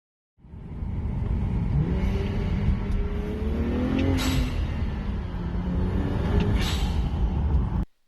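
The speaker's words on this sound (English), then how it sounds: "I have a sound clip of the 335 IS" A BMW 335is engine runs in a steady, full-bodied drone, the pitch easing up and down with a couple of gentle rev swells, close and alone with no talk.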